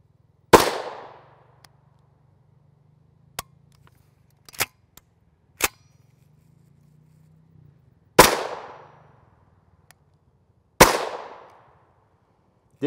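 Gunshots from a Ruger LC carbine firing Fiocchi 5.7x28mm rounds: three sharp, loud reports spaced several seconds apart, each with a ringing decay, and faint clicks and clacks of the action between them.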